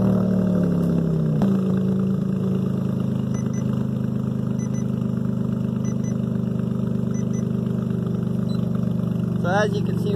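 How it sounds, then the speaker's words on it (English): A 2015 Chrysler 300 with a 3.6L V6 and straight-pipe exhaust with muffler delete idles with a loud, steady low drone, with a brief engine note change early on and a faint clatter near the end. "this is just idling, that it's fairly loud just idling"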